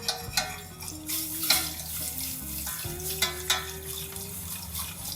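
Whisk stirring milk into a bourbon bacon cheese sauce in a pan, with steady wet swishing and sizzling that runs the whole time and a few sharper scraping strokes rising above it.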